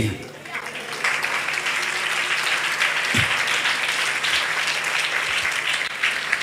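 Worshippers at a Tamil church convention clap together after the preacher urges them to be happy. The applause builds within the first second and stays full, with voices calling out in the crowd.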